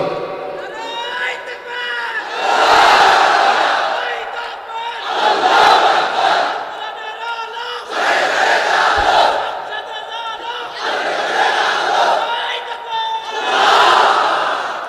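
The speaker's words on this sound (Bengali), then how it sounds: "তাকবীর পড়েন তো দেখি, আল্লাহর নামে পড়েন, লিল্লাহি তাকবীর" A large crowd at an Islamic sermon shouts the takbir in unison, five loud, full-throated group bursts repeating at steady intervals, a leader's voice calling between them.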